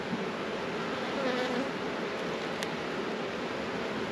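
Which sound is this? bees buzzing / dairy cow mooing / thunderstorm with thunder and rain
bees buzzing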